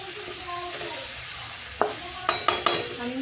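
Spiced eggplant frying in oil in a pan, a soft steady sizzle with a few sharp clinks of a spoon stirring against the pan toward the end.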